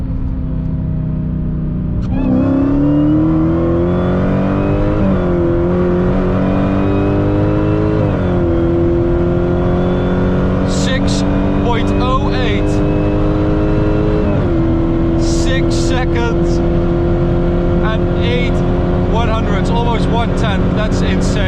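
An 888 hp Dodge Hellcat widebody roars through a hard run, its engine pitch climbing through repeated gear changes with brief dips between shifts, loud and close from inside the car, with a voice speaking briefly over it.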